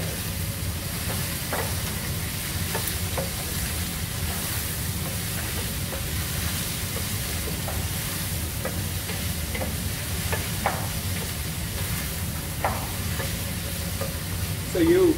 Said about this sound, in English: we are going to use quite a bit of onions and ginger, and we will saute it first before adding the other veggies in